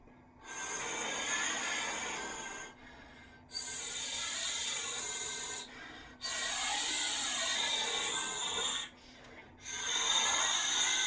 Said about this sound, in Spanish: Para conseguir el sonido de aire adentro del tubo, lo único que tenés que hacer es cubrir toda la embocadura